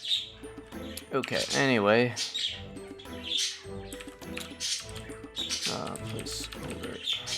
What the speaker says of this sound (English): They're birds. They just want to scream.